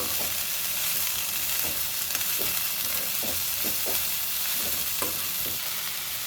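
Broad beans sizzle in a hot pan under a constant hiss, with repeated scraping strokes of a spoon stirring them.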